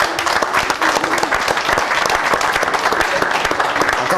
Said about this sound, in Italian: Farei un grande applauso a Roberto Rosato.